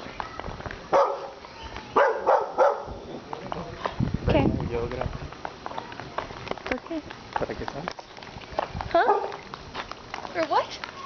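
A dog barks a few times up close amid lively talking, with footsteps and outdoor background noise throughout, in Quepos, Costa Rica.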